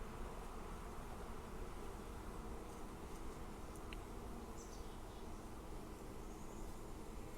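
Honeybees inside a hive crawl over and chew fondant, a steady dense buzzing hum that stays close and even throughout with no voices.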